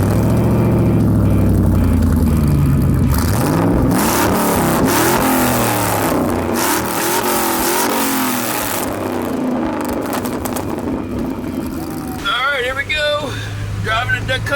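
A Dodge Dakota pickup pulls hard from a standstill toward 60, its engine note rising and sweeping through gear changes, loud and close, with a shift audible partway through and voices talking over the run near the end.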